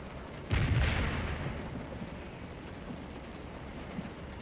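Artillery fire in the Scourge of War Remastered Civil War strategy game: one deep booming blast that rolls off into a low fading rumble over steady battlefield ambience, with no talk.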